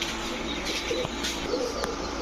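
Pigeons kept in a loft, soft low cooing in a few brief murmurs against a steady background hiss, fairly faint and without talk.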